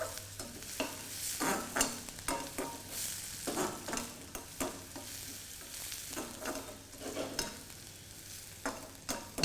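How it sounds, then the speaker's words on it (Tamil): Cubed onions and green chillies are sautéed in a pan for a Chettinad potato and peas fry, with a low, steady sizzle and frequent scraping stirs of a spoon, close and quiet. "வெங்காயம் நல்லா வதக்கணும்."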